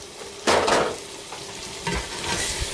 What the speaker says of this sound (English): Mix all the flour in.